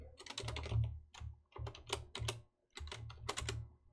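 Code typed on a computer keyboard, rapid clattering keystrokes in close bursts separated by brief pauses, with no talking.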